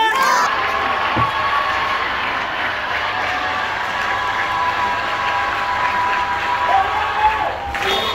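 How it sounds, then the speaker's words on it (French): Children in a school classroom on the first day of the school year in Matadi clap and shout loudly together, a dense sustained crowd noise filling the whole stretch with cheering voices. "En battant les mains en criant contre fort."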